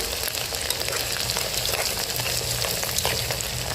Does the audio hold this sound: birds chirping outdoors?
no